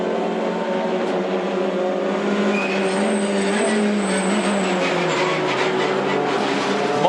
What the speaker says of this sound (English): and Nathan Morecambe on board with Brown now, car 30.